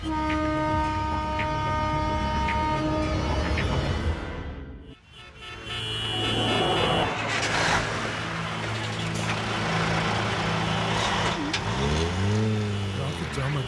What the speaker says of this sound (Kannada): ಟ್ರಾಫಿಕ್ ಜಾಮ್ ಆಗಿದೆ